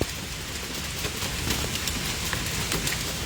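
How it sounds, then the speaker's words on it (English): Heavy rain with hail pounding down during a storm in western Oklahoma, a dense steady hiss with scattered sharp ticks of impacts, loud and continuous, with no voices. "It looks like there's going to be a little bit more hail."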